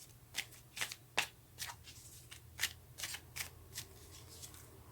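Tarot cards being drawn from a deck and handled, giving a string of crisp, separate flicks and slides in an uneven rhythm, close and fairly quiet with no voices.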